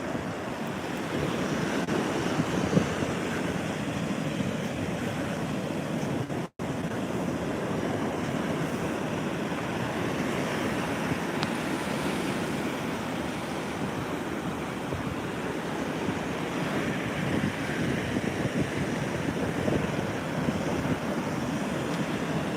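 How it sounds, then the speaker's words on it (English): Rough surf pounds continuously at a Delaware beach as Hurricane Erin approaches, with gusting wind buffeting the microphone in a dense, unbroken roar. "Hard to see how rough the surf is here, even without the strongest winds here yet."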